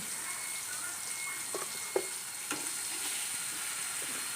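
Brinjal (eggplant) fries in a pan with a steady, even sizzling hiss throughout, broken by a few small pops and clinks.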